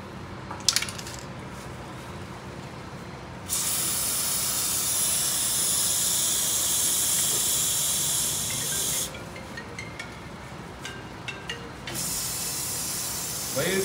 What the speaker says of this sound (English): It's a chain lubricant.